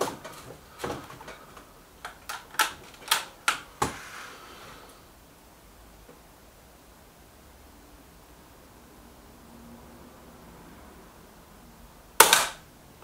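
Kral Puncher Pro 500 and Weihrauch HW 110 air rifles fire outdoors, giving a string of sharp, spaced cracks in quick succession. After a long quiet gap comes one loud close shot near the end.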